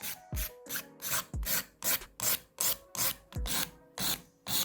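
A nail file rasps back and forth across nails in quick, regular strokes, about a dozen close scratchy passes in steady rhythm.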